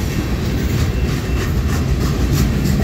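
A CSX westbound freight train carrying work equipment on flat cars rolls past at Plymouth, Michigan, its wheels and cars making a loud, continuous rumbling clatter up close, with no voices.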